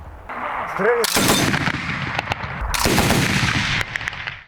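Loud rifle shots crack out in bursts and single reports, a dense volley of small-arms gunfire echoing across an open military training range.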